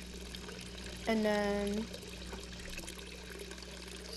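A bucket fills with water in the video game Hello Neighbor, a short bright rising pour lasting under a second, with a person talking around it.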